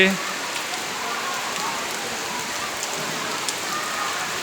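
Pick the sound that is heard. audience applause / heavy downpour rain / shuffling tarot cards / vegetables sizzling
heavy downpour rain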